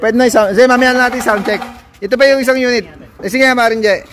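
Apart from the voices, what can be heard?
No everyday noise stands out behind the speech.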